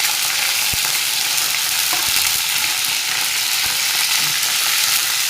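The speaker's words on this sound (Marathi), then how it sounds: "कढीपत्ताही टाकून घेऊ त्याच्यात।" Curry leaves sputter in hot tempering oil with a constant bright hiss and an occasional scrape of stirring, filling the whole stretch at close range.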